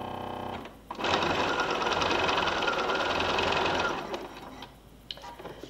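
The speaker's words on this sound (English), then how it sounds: "we're going to sew a 1/4 inch seam along the short side of the binding strips" A sewing machine starts up and runs steadily for a few seconds with a fast mechanical whir, sewing a quarter-inch seam on quilt binding strips, then slows and stops, close by.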